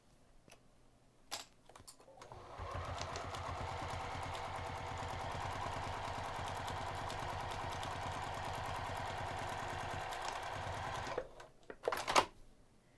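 A sewing machine stitches the short ends of a woven Easter basket's fabric together with a quarter-inch seam, running in a steady close whir for about eight seconds after a few clicks, then stopping with more handling clicks.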